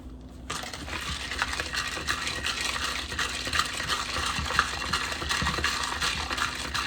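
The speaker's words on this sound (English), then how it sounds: "Give that a stir." Sugar being stirred into iced tea over ice in a glass, a steady run of close clinking and rattling of ice against the glass under a faint background hum, no talking.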